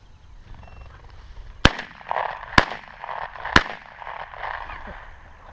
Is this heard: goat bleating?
no